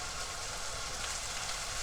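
Mushroom liquid simmering in a pot of mushroom beef soup made with leftover roast and drippings, giving a steady, dense bubbling hiss that holds at an even level throughout, with no voices.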